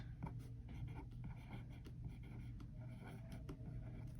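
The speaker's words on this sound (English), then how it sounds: "I'm going to draw a line out from one of my strands and write fibrous strands" A pen or pencil scratches across paper while drawing a line and writing words to label a diagram of pumpkin parts, a faint, close, continuous scribbling with small strokes and taps.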